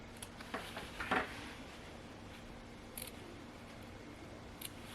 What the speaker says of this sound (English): clip all the way around this circle. Clip right into your seam allowance, but don't cut through your stitching